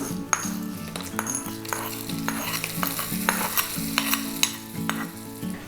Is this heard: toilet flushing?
no